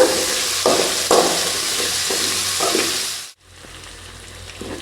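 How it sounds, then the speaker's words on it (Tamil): Shallots sauté in hot oil for a Tamil kara kulambu, making a loud, continuous sizzle with a few stirring scrapes. The sizzle drops off sharply, then resumes more quietly. "இந்த எண்ணெயில் வெங்காயம் நல்லா வதங்கிடுச்சுங்க"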